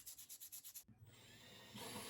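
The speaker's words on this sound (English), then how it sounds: "First with the belt sander, then with the palm or orbital sander, and a little bit hand sanding" A rhythmic rubbing rasp of sanding black walnut, repeated strokes at first, then a steadier continuous scratching hiss from belt and orbital sanders, fairly quiet and close.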